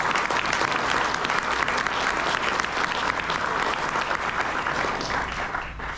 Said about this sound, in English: How about a round of applause for our entire honor guard?